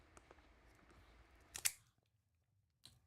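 A cigar cutter makes a V cut into a cigar, a quiet snip and crunch followed by a sharper click, with a faint second click shortly after in a hushed room.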